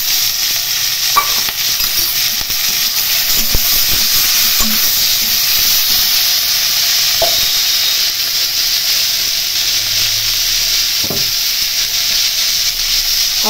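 Turmeric, cumin and chilli paste fry in hot oil for a hilsa curry, giving a steady close sizzle and hiss with scraping stirs and occasional clinks of the spoon against the pan, no voices.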